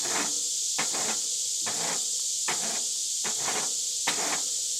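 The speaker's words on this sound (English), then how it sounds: "Take our grill tool. Let's clean these grates off real quick." A grill tool scrapes back and forth across the grates of a PK Grill in about six steady, rhythmic rasping strokes, close and alone with no talk.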